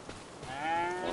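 Cow in the Farming Simulator 25 farming game, a single drawn-out moo that rises and holds steady, close and clear with no talk over it.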